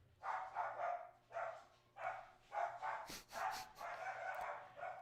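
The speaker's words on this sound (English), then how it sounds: "Never-ending dog bark." A dog barks over and over in a steady rhythm, short sharp yaps in clusters heard from a short distance in a quiet indoor setting.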